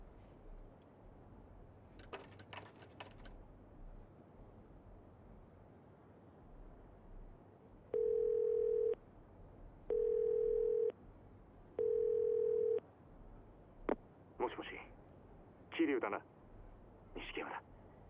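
A payphone in the Yakuza 0 video game plays three identical steady dial-tone beeps with short gaps between them, followed by clicking handset sounds, with someone talking around them.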